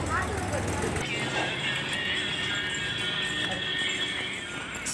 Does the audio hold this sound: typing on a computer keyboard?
no